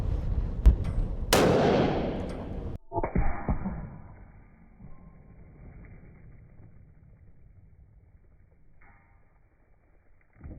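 A 300 PRC rifle fires a single loud, sharp shot that cracks then booms outdoors, quickly followed by a metallic clang as a steel target is knocked over, and the ring fades into quiet ambience.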